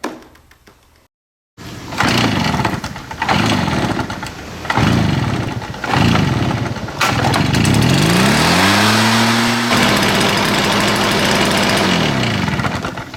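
A Stihl BR 420 backpack leaf blower with a freshly rebuilt Walbro carburetor cranks in several short bursts, then catches and runs loudly and steadily, its two-stroke engine revving up and settling into a sustained roar.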